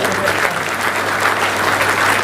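A crowd claps loudly at an event in Constitution Club, New Delhi, the applause thick and continuous, close and sustained throughout with no talk over it.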